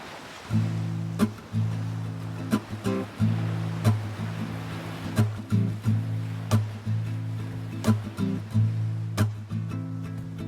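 Steady ocean surf rushing over the low drone of a 4x4 Jeep WJ engine driving on the beach at Pismo Oceano Dunes, with occasional sharp knocks and bumps cutting through at irregular intervals.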